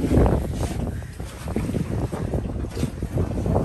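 A small boat on big waves during island hopping off Masbate, with wind buffeting the microphone and water rushing and slapping against the hull in an uneven, continuous roar.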